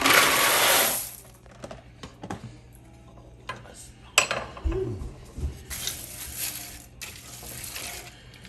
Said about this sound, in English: we're going to add our box of pasta